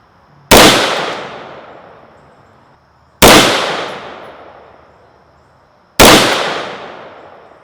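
Three loud, sharp AR-15 .223 rifle shots crack out about three seconds apart, each ringing off in a long decaying tail, fired at a target from 15 yards with a flash hider fitted.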